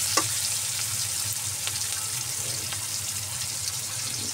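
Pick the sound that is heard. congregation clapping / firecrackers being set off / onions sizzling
onions sizzling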